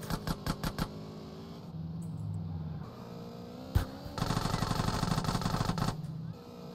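Gunfire in GTA San Andreas: a quick burst of shots at the start, then a single loud report, followed by a sustained rapid stream of automatic fire, with engine drone underneath.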